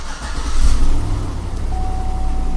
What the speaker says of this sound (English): If it doesn't go green, we're going to crank and start the vehicle.